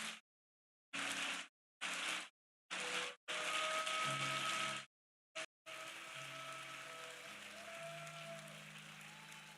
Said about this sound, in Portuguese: Você pode aplaudir bem forte o nome do Senhor?